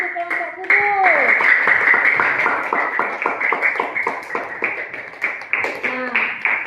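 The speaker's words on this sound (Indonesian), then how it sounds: "kita beri aplaus dulu untuk kelompok Kubus" Classroom applause for a student presentation group, a run of rapid close hand claps under a voice speaking.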